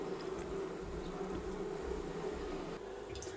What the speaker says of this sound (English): Some of them are stationary and they're vibrating their wings, fanning.